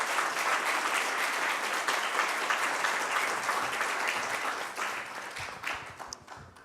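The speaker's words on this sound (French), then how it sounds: "Madame Myriam El Khomri, que vous pouvez applaudir." Sustained applause from a conference audience for the French labour minister at an employment colloquium, steady dense clapping throughout, thinning slightly toward the end.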